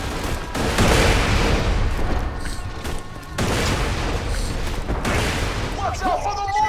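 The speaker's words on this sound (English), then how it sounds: "Watch out for the mortars, Slam." Mortar fire and explosions in the Borderlands 2 video game, heavy booming bursts and rapid gunfire in two dense loud stretches, with a short lull between them and talk running underneath.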